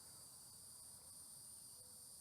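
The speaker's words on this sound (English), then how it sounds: "You've got the sound of the crickets" Crickets chirp steadily in a park beside water, a continuous high shrill drone running through the whole stretch, fairly faint against a quiet low rumble.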